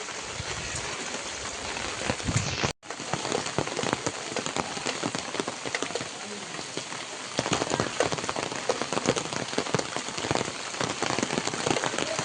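Steady rain pours down on a rural Konkan village during the first monsoon shower, a dense continuous hiss of drops on surfaces with one brief break, and no voices.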